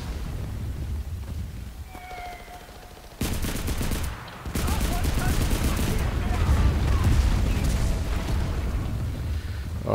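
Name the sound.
gunfire in Enlisted, video game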